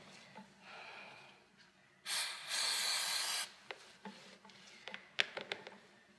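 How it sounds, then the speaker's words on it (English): Chain cleaner sprayed onto the chain of a Ducati Diavel 1260S motorcycle, a loud hiss lasting about a second and a half amid quieter spraying and scattered clicks and rustles, close up with no talking. "Alright, so we've already passed the master link, so I'm pretty much done spraying."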